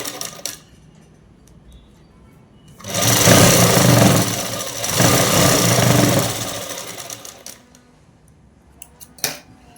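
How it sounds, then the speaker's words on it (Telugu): Sewing machine running a long top-stitch seam along a blouse, a steady motorized whir lasting several seconds, fairly loud and close, with quiet handling clicks before and after. "ఇటువైపు తిప్పేసి పై కుట్టు వేసేసుకోవాలి."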